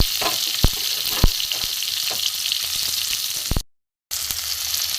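Onion and tomato fry in hot oil in a wok, giving a strong, continuous sizzle up close. Sharp clicks of a spatula against the pan come every so often, and the sound cuts out briefly before resuming.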